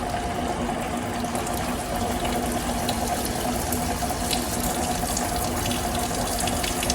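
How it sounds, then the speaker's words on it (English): Coolant gushes steadily through the restored coolant system of an OKK vertical milling machine, a constant loud splashing, running-water rush with a faint pump tone beneath, unbroken and close. "It looks like it'll provide enough coolant for heavy duty cutting."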